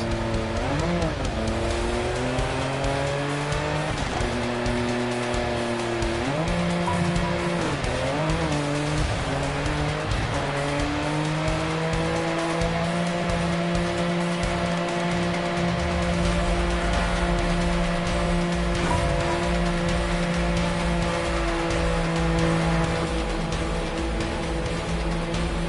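A rally car driven in the Dakar Desert Rally video game on PS5, with a continuous engine drone rising and falling through gear changes and occasional tire squeal, loud and close with no voices.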